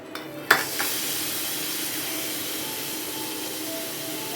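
Hot tempering for dal tadka sizzles in a pan with a brief clatter at the start, then settles into a steady, continuous frying hiss.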